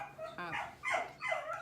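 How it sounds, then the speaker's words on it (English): A small puppy barks in short, sharp yips and higher whimpering cries, three close bursts in quick succession at fairly near range, with a person's voice talking around them. "We have a special little puppy that's barking at us."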